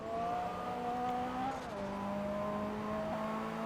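Car engine in the racing video game Forza Motorsport 2 drones steadily at a constant pitch, dipping briefly as if shifting gear, then holding again, with no talk.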